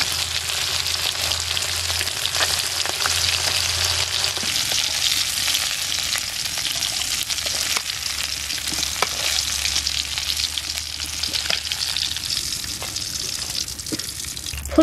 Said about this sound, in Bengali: এবার এই ধুয়ে রাখা ফুলকপিটা মাছ ভাজার তেলে ফুলকপিটা দিয়ে দিলাম।